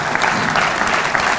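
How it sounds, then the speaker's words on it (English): Steady applause from a crowd, dense and continuous clapping with no pauses. "a round of applause for them"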